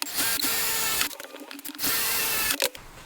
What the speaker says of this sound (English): Find my marks and just drill through.